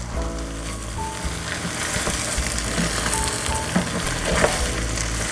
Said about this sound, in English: So I'm just going to mix this guys up.